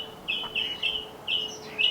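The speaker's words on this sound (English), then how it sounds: "There's like a bird war happening behind me." Birds chirping and calling outdoors, a series of short bright twittering bursts repeated about five times in quick succession, fairly close and clear over a faint steady background hum.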